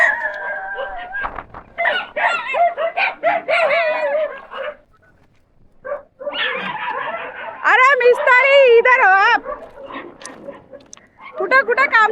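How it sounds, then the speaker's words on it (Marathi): Several dogs bark and yelp excitedly in loud, wavering bursts, broken by a short quiet pause before the noisy commotion starts again. "किती गोंधळ घातलाय बघा या कुत्र्यांनी"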